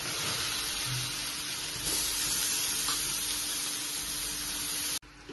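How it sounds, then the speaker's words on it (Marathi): Grated carrot sautéing in ghee in a pan for carrot halwa, a soft continuous sizzle with light stirring that cuts off abruptly near the end. "त्याच तुपामध्ये आपल्याला आता हे किसलेलं गाजर संपूर्ण टाकून परतून घ्यायचं आहे।"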